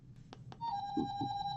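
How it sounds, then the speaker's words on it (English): A phone rings with a bright electronic tone that starts partway through and holds steadily, preceded by a few soft taps and faint background sounds in a quiet room. "Oh, excuse me. That's my phone."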